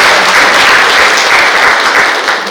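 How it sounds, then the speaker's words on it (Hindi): Loud, dense applause from a crowd at a housewarming gathering, welcoming a guest speaker from Bundi, Rajasthan. The clapping runs steady and close throughout, easing slightly at the end. "तो एक बार जोरदार तालियों से बधाई।"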